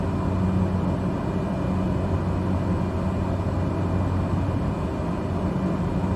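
Cessna Caravan turboprop engine in Microsoft Flight Simulator 2020, cruising at reduced power, a steady loud drone with a low hum and no pauses or talk.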